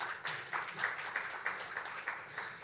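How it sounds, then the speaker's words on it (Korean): Scattered applause from an audience after a presentation at a Korean global cooperation expo session, quiet and distant-sounding, a few individual claps standing out against a thin patter. "박수 부탁드리겠습니다"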